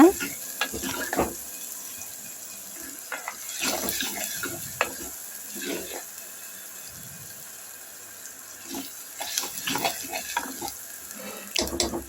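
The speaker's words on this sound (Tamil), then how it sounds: "வெங்காயம் பூண்டெல்லாம் நல்லா வதங்கட்டும்" Onions and garlic sizzle and crackle in a hot pan while sautéing, with intermittent clattering and stirring sounds, close by.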